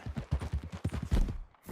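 Horse hooves clip-clop in a steady, fairly quick walking rhythm in Red Dead Redemption 2, about a dozen soft, close thuds over a short moment with no talk.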